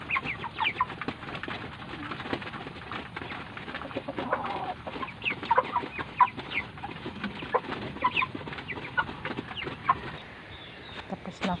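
Backyard chickens near their feed and water make soft clucks and scattered short calls, a busy, continuous farmyard murmur with irregular peck-like ticks throughout.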